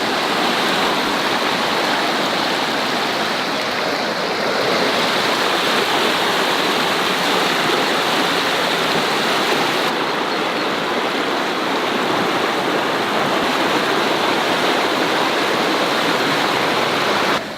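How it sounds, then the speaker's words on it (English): Spring floodwater rushes over a bridge in Järvsö, Sweden, in a loud, constant roar of churning water that holds steady throughout, with no voices. "In just 12 hours the water has risen and is now flowing over the bridge."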